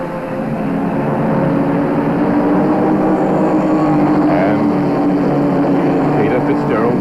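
1984 production cars, Mitsubishi Starions and a Ford Falcon, race at Adelaide, giving a continuous loud engine drone from the pack under a commentator's voice.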